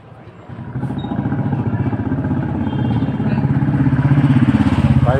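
Motorcycle engine running close by as the bike cuts through narrow lanes, a steady throbbing mid-range drone that grows gradually louder over the clip with no talk.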